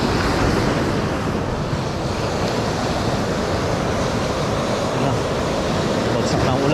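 Ocean waves wash against the shore at a fishing spot on a rainy day, a steady loud broadband rush mixed with wind buffeting the microphone, continuous with no clear breaks.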